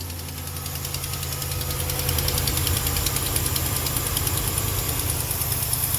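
On a cold morning, an engine idles with a steady rhythmic ticking that comes from the suspension rather than the valvetrain, close and continuous over a low running hum.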